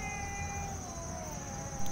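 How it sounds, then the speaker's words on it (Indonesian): A street cat meows softly in a thin, drawn-out cry, fairly faint and close, with a small bump of noise at the end. "Si Liling itu emang kucingnya usil"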